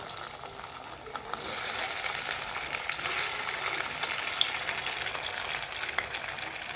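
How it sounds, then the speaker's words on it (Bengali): Pieces of Bengali pitha topped with raisins are slipped into very hot oil, and a bright, steady sizzle of frying starts after a second of quiet and continues up close without a break. "আমি এগুলোকে আস্তে আস্তে তেলের মধ্যে ছেড়ে দেবো"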